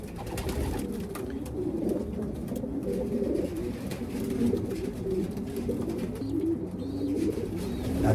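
Pet pigeons, Thomas six-line birds, cooing in soft, repeated low rolling calls that carry on steadily, fairly close, with no talking.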